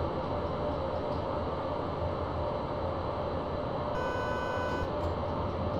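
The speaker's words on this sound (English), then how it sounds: "we're getting wheel slip because we're a little bit over, overzealous on the throttle" A BR103 electric locomotive hauling a TEE train in Train Simulator on the Hamburg–Hanover line with its wheels slipping under heavy throttle: a steady, loud rolling drone with a constant tone, joined near the end by a brief series of high beeps.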